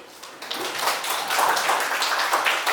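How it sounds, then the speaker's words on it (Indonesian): Classroom of students clapping together after a lesson segment, a dense, continuous patter of many hands filling the room, moderately loud throughout. "tepuk tangan dulu"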